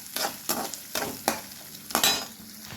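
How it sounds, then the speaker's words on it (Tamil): Small shallots fry in a pan for a tamarind kuzhambu, a steady sizzle broken by four or five regular scraping stirs of a spoon, close and clear with no talking. "15 பல் சின்ன வெங்காயம் கட் பண்ணதை ஆட் பண்ணிடுங்க. நல்லா ஃப்ரை பண்ணிக்கோங்க."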